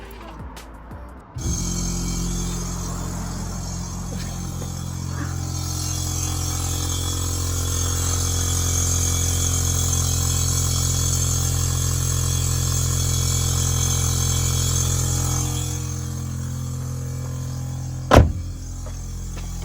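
Air ride suspension compressor fitted to a Skoda Fabia vRS, kicking on abruptly and running with a steady electric motor drone and whine, continuous and close, ending with a short sharp click.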